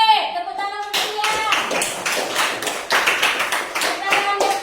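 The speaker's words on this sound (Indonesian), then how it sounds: "Tepuk tangan untuk dia." A classroom of children clapping their hands in unison at a school lesson. Loud, close, choppy bursts of clapping follow a short stretch of voices, with more talk and shouting mixed into the clapping.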